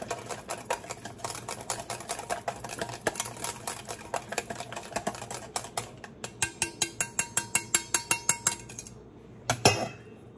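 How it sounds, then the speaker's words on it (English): A mini whisk mixes about a quarter cup of ingredients in a small bowl for sandwiches, its metal wires ticking in a quick, regular rhythm against the bowl, ending in a louder clink. "Give me a little mini whisk. We're gonna mix that together."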